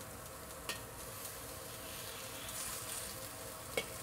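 Eggplant pieces fry in oil in a wok with a steady, fairly quiet sizzle and a couple of brief clinks from stirring.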